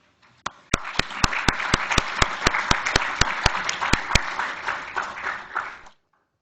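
An audience applauds to welcome Dr. Shenggen Fan, a steady wash of clapping with sharp individual claps on top, lasting several seconds before stopping abruptly.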